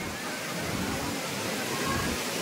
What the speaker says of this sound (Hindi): ये रहा झरना